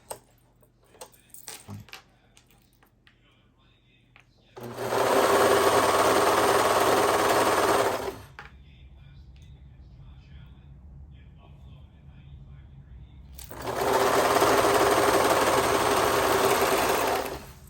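A serger whirs loudly in two long, steady bursts, with quiet fabric handling and faint talking between them.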